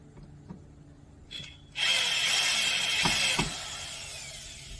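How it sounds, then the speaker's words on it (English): A DeWalt impact driver drives a screw into wooden steps: a few light taps, then a close, loud burst of whirring and rapid hammering lasting a couple of seconds before easing off. "If you need to go ahead and put a screw in your steps, DeWalt's the way to go."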